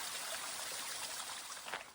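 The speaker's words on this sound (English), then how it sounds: "This is not a trail. This is a waterfall." A waterfall on a mountain trail rushes steadily in a broad, continuous wash of splashing water, close and fairly loud throughout with no voices.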